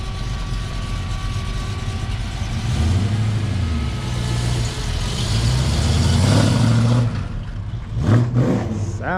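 A custom car's engine idles with a deep, steady rumble close by and swells in a couple of gentle revs before easing back.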